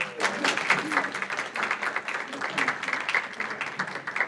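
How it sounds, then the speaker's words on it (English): Applause from an audience at an evening community event, a moderate, fairly quiet patter of clapping hands that continues steadily throughout. "So let's give her a round of applause."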